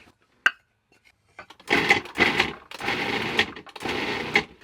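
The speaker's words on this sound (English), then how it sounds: "We're gonna now add our beans to the food processor." A food processor chops beans in several short pulses, each a loud, gritty whir separated by brief pauses, following a single sharp click at the start.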